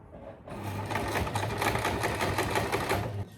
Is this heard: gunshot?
no